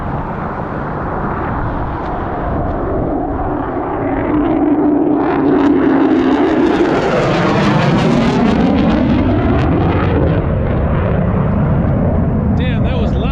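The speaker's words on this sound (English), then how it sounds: "Taking off from Yuma Airport." A military jet roars loudly as it takes off from Yuma Airport, Arizona, the thunderous noise building and sweeping with whining tones as it passes nearby.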